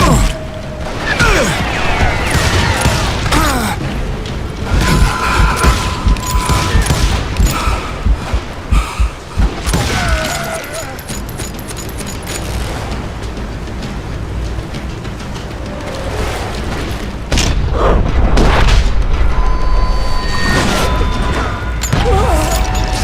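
Gunfire in the video game Call of Juarez: Gunslinger, a loud, dense barrage of rapid shots, crashes and impacts lasting throughout, close and relentless with no talking.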